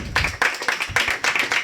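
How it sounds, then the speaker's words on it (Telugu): An audience at a stage event claps to welcome guests, with rhythmic bursts of hand claps close by and fairly loud for a brief moment. "చప్పలు కొట్టి వారిని ఆహ్వానిద్దామండి."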